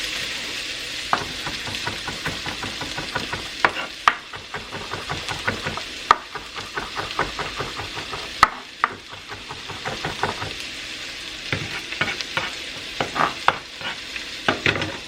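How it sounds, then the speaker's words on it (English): Vegetables sauteing in a pan for a hearty meatless meal, a steady sizzle broken by frequent scraping and knocking of a utensil stirring against the pan, close and fairly loud with no talking. "so we'll just saute this for a few minutes."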